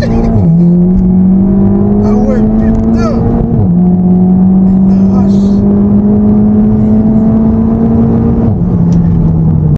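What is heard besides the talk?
Seat Leon Cupra 360 hp accelerating hard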